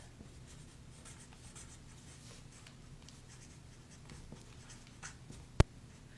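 Pen or marker writing on a handmade Easter card, faint and steady scratching with a short sharp tap near the end, alone and quiet.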